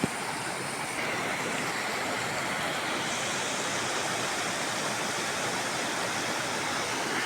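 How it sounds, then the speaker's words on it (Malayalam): Melaruvi waterfall in Kanjirappally roars as a dense, unbroken rush of falling water, loud and steady throughout with no other sounds rising above it. "മേലരുവി വെള്ളച്ചാട്ടം."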